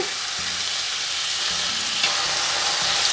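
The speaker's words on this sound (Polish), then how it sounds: "Podsmażamy je na brązowy kolor." Chicken tenderloins sizzle and fry in hot oil in a pan, a constant crackling hiss with a few soft low knocks of the pan or utensil.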